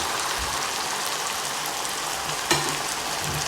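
Soy sauce hits a hot pan of garlic chilli noodles with a steady, bright sizzle and fine crackle, close and continuous, with one sharper spit near the end.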